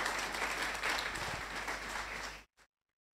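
A church congregation applauds together in a loud, dense burst of clapping that fills the space, then breaks off sharply with one last short clap before silence.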